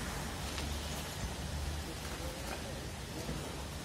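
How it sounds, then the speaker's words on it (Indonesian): Sudden rain falls outdoors at a bus depot where a bus is being repaired. It makes a dense, steady hiss close by, with faint voices underneath. "Tiba-tiba pas lagi nge-vlog gini hujan tadi, jadi buru-buru lari nyari tempat berteduh"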